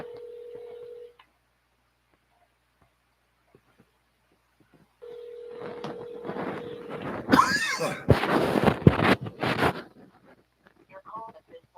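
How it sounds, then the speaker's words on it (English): A phone call placed to a government ministry's number: a steady dial tone, then a quick series of touch-tone keypad beeps followed by handset clatter and rustling, heard close with no talking. "Let's call his ministry phone number."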